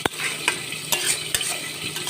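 Oyster meat slow-frying in oil over a low flame, a soft steady sizzle punctuated by a few crisp scrapes of a spoon stirring against the pan, close up.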